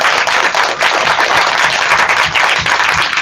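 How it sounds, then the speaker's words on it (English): An audience bursts into sustained, dense applause for a panel, loud and continuous clapping with no talk over it. "give them a thunderous round of applause"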